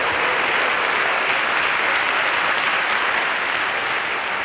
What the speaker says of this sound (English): Let's give God a hand clap of praise right there.